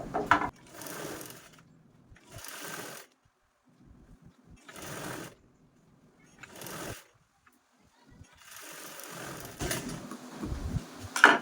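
Sewing machine stitching a zipper onto a small piece of fabric, running in several separate bursts of a few seconds each with quiet gaps between, fairly close and clear with no talking.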